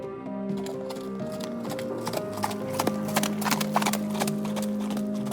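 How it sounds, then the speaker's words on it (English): Horse hooves clip-clopping at a quick pace on a village street, steady rhythmic strikes with a brief whinny, heard over a continuous musical background. "A hurry of hoofs in a village street"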